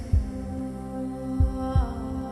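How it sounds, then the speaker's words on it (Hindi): Heavy synthetic heartbeat effect from a horror movie: deep low thumps, one near the start and a closer double beat later, over a steady humming drone with no voices. "ये पूरी दुनिया इस दिल की धड़कन की वजह से है।"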